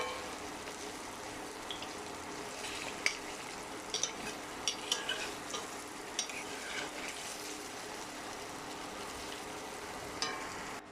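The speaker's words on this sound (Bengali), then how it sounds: "এই দেখুন, বড়াটা আমি ভেজে নিচ্ছি।" Pumpkin leaf fritters fry in a pan with a steady, soft sizzle and occasional light clicks of stirring or turning, close up and with no talk.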